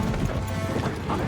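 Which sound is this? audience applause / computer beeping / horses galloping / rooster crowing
horses galloping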